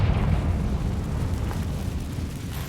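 A Confringo spell blast in Hogwarts Legacy lands as a loud, dense rumbling burst of explosive noise that rolls on for a few seconds with no break.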